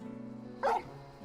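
Torgal, a frostwolf hound in a Final Fantasy game, lets out a single short bark over a quiet, steady hum.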